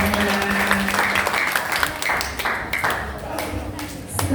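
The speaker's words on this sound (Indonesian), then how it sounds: "Boleh beri tepuk tangan yang meriah untuk Mas Abimanyu" A crowd claps steadily throughout at a mental health talk show, a dense wash of applause with voices and some background sound mixed in.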